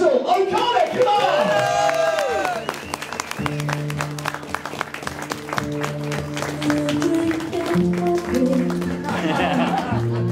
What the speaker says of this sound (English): Ladies and gentlemen, a massive round of applause